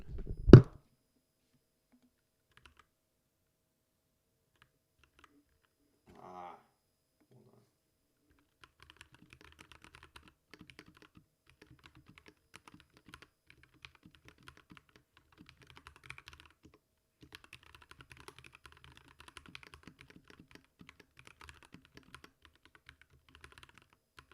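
Fast typing on a computer keyboard, a quiet, dense run of rapid clicks that starts after a short sharp knock and a brief earlier patter, close by and without speech.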